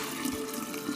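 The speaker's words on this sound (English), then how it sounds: "I'm going to pour it down in the jar." Homemade organic apple cider vinegar with the mother being strained and poured into a jar, a steady close liquid trickle and splash running briefly without pause.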